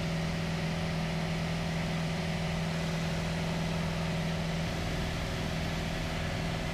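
Light aircraft engine holding a steady cruise climb through a long hot climb toward 4,500 feet, a continuous droning hum with a strong low tone, even and unbroken throughout with no talking.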